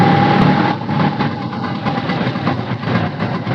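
A Vespa scooter with a nearly broken clutch runs after being push-started, its engine droning loud and close with uneven throttle pulses, no talking.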